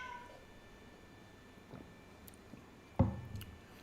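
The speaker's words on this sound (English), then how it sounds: "Some new stray cat has come to my balcony." A stray cat on a balcony gives one short, fairly clear meow near the end, preceded by a few faint, soft sounds over a quiet background.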